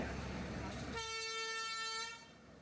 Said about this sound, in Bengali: লম্বা একটা হুইসেল দিয়ে আমাদের ট্রেন ছেড়ে দিল